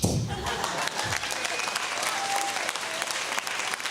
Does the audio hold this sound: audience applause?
yes